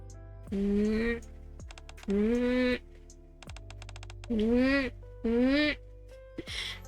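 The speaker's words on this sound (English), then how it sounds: "After Nero meows, all the cats sit down and cry out in unison." Cartoon cats in the video game NIKKE meow together in a chorus, four long, loud drawn-out wails in pairs, with soft game music and chimes in between.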